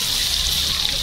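Finely chopped onion frying in a hot pan for a mutton-style rassa bhaji gravy, a steady close sizzle with no pauses and a soft stir near the end, no voices.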